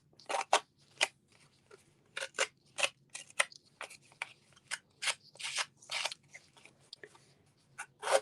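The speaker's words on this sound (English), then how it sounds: "So we're just going to take our scissors" Scissors roughing up the edges of a paper picture to make it look ripped: a quick run of close, crisp snips and rasping scrapes in an uneven rhythm, with no talking.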